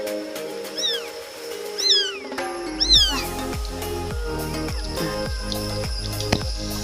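A kitten gives three clear, rising-and-falling meows in quick succession, fairly close, followed by a steady run of rhythmic knocking and shuffling with no voices.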